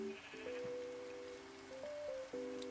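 Minecraft sheep bleating in a few short, wavering tonal calls over a soft hiss, fairly quiet and with no talking.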